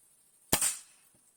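A single sharp air rifle shot from a 4.5 mm air rifle firing a Shershen (hornet) pellet cracks out close by, a quick pop followed by a brief fading tail, with quiet before and after.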